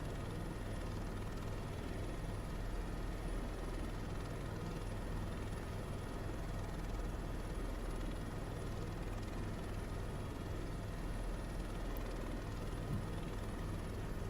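Helicopter flying over a dirt runway, a constant steady rotor and engine drone heard from inside, unchanging and moderately loud throughout with no talk.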